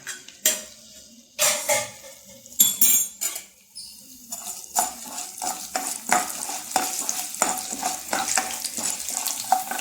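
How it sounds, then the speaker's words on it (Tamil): Urad dal and cumin seeds crackle and sizzle in hot oil, with a spoon clinking and scraping the pan in repeated bursts, close and fairly loud throughout. "இப்போ எண்ணெய் காஞ்சோன்னா உளுத்தம்பருப்பும் சீரகமும் எடுத்து வச்சதை போட்டு நம்ம வதக்கிக்கலாம்."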